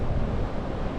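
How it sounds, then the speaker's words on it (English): Strong wind at the seaside buffets the microphone, a loud continuous roar with surf mixed in, no voices. "the weather's just been either raining or hella windy like it is now"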